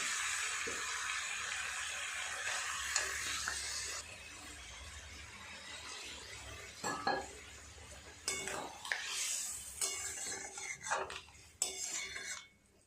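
Water poured into a pan of fish head curry with kohlrabi and potato, giving splashing, sloshing and soft sizzling bursts plus scraping stirs and clinks of a utensil against the pan, loudest in the second half.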